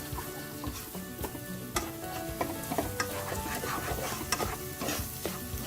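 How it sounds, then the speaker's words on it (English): A thick spice paste for Nellore fish curry sizzles in a pan on low flame while a utensil scrapes and stirs it in irregular clicks and knocks, close and steady, without any talking. "And continue frying for another 2 to 3 minutes on low flame."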